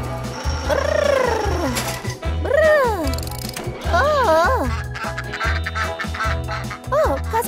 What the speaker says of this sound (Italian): Oliver, sono anatre!